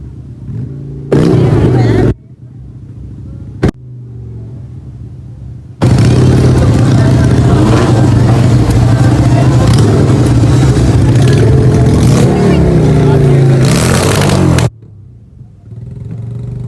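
A Yamaha R1M superbike revs its exhaust up close in loud repeated bursts: two short blips, then a long sustained roar of about nine seconds before it drops back to a steady idle.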